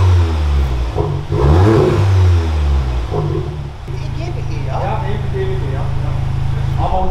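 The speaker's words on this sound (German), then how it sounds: "Aber ja, jetzt im Stand hört es gut an." Exhaust of a VW Golf 8 GTI revving at standstill, loud and close, with blips early on and then a steady idle drone while people talk over it.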